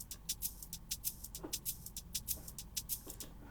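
Shaker loop sample at about 97–99 BPM in an Afrobeat drum pattern, a quiet, steady run of bright, crisp hiss bursts repeating in even rhythm.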